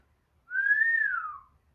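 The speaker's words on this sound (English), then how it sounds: "Wen whistled." A single clear human whistle, one smooth rising-then-falling note about a second long, heard alone against near silence.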